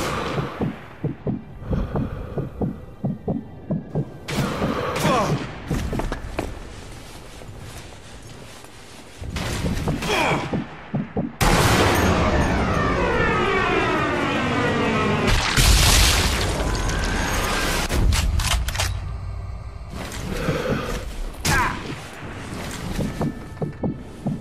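Sniper rifle gunfire in the video game Sniper Elite V2 on PlayStation, a series of heavy booming shots with rumbling echoes and slow-motion bullet effects, loud against a steady game soundtrack with no talking.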